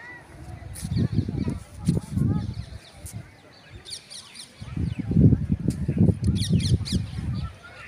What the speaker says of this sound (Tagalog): Ganda talaga mga huni ng ibon.